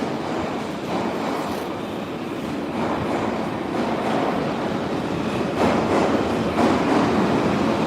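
A metro train rumbles at an underground platform of the St Petersburg Metro Orange Line, a steady loud roar with periodic rattling swells building toward the end, no talking heard.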